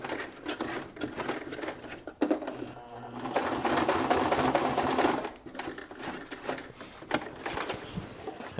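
A sewing machine stitches binding over a zipper in short runs of rapid needle chatter, with a brief pause and then a longer continuous burst in the middle, close and clear.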